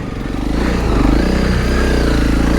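Honda CRF300 Rally motorcycle engine ridden off-road, a loud, steady close-up drone with low rumble that builds slightly in the first half second and then holds, with rattly clatter from the bike over it.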